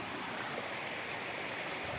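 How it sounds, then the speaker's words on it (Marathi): A small river stream flowing near rice paddy fields, a steady broadband rush of running water heard close and continuous with no voices. "एका छोट्याच्या नदीला पोचलो"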